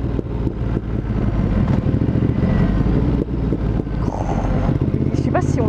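Ducati Monster 937 motorcycle engine on the road as the throttle closes, a loud, rumbling exhaust burbling and crackling close by, with a rider talking over it.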